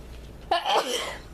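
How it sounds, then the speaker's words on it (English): A single sharp sneeze bursts out close to the microphone after a quiet moment, followed by a brief breathy tail. "I'm about to sneeze."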